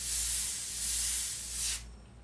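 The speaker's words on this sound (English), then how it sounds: "Just spray it like that's the beauty of the airbrush, though." An airbrush sprays paint onto an illustration of a lion's furry jaw, a close, steady airy hiss lasting under two seconds with slight swells before it cuts off abruptly.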